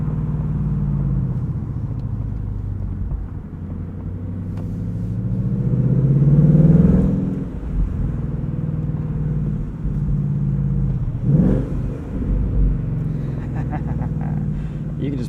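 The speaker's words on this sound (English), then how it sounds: "cruise slowly around in a parking lot just because of how this exhaust sounds" A 2020 Ford Mustang GT convertible with the Performance Pack and six-speed manual cruises slowly, its V8 exhaust giving a steady, deep, close rumble that swells into a brief rev midway and flares again near the end.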